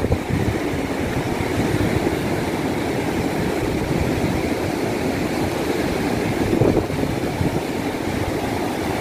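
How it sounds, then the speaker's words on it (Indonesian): Steady broadband roar of surf washing continuously over a coral reef at Slili Beach, Gunung Kidul, Indonesia, loud and close, with a brief swell of louder wash near the end; no voices. "Ombak datang bergulung-gulung."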